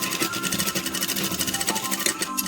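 A sewing machine stitching the hem of a fabric door curtain, giving a rapid, steady mechanical chatter of needle strokes close by with no talking.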